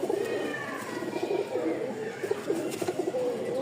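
Pigeons in a sale loft, including a pair of Rajgolla pigeons, coo softly and continuously at close range, with a low murmur running steadily throughout and no talking.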